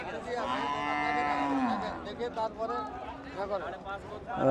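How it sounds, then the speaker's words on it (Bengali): A crossbred Nepali cow at a cattle market moos loudly and long, its low drawn-out call sliding down in pitch, then a second shorter moo, with a murmur of people around. "ক্রস জাতের নেপালি এই গরুটা"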